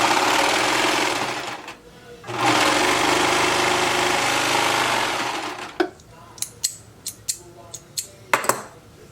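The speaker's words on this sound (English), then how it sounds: "I'm going to sew my side panels to my front center." A sewing machine stitching fabric side panels to a front centre piece, running in two sustained buzzing bursts with a brief pause between, then stopping and giving way to a few sharp clicks and handling knocks.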